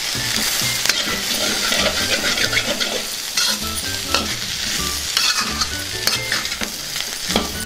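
Fried taro root pieces sizzle loudly in a pan and are stirred together with coriander leaves. The spatula scrapes and tosses repeatedly at close range over a constant, dense crackle of hot oil.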